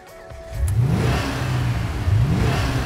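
A Maloo performance ute's engine revs up hard after a quiet start, rising in pitch, easing, then revving again, loud and close with no talk over it.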